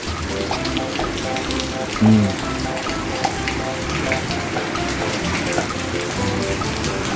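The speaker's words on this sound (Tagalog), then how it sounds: "maulang Monday. Yan o. Ito ang sitwasyon ngayon. Maagos oh." Heavy rain pouring on a rainy Monday, a steady, close wash of rushing water that runs the whole time, with a brief low sound partway through.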